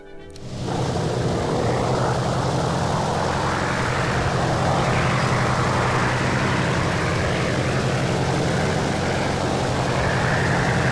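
A propeller airplane engine drones in flight in the War Thunder combat game, a loud, continuous, steady roar that starts abruptly and holds evenly throughout with no speech over it.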